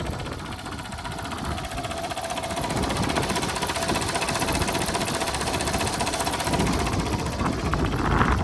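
A 60-year-old tractor's small engine idles with a steady, rapid mechanical ticking, loud and close, running evenly throughout without voices.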